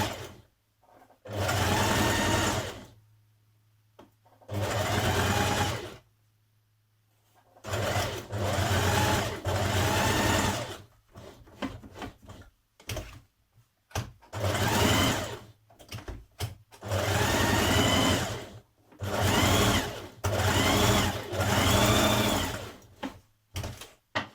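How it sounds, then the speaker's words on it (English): A sewing machine top-stitches and machine-bastes trouser pocket lining in bursts of steady, rapid stitching, each run lasting a second or several, with short pauses between runs and no talking. "we're going to stitch this down, top stitch it around this edge and just machine baste it on this edge"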